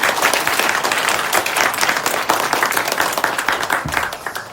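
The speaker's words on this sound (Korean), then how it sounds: "우리 하나님께 박수 한번 돌리겠습니다." A Sunday worship congregation bursts into loud, dense applause that continues steadily throughout, with individual claps distinct amid the crowd.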